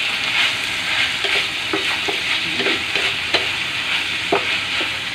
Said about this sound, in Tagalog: Haluin natin sandali bago natin ilagay ang kalamansi.